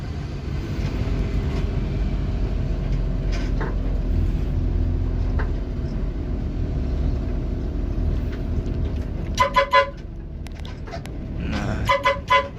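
City bus on the Harapan Indah to Blok M route, a steady engine and road rumble fills the cabin throughout, with a few brief higher-pitched tones and beeps near the end, likely from the doors or stop signals.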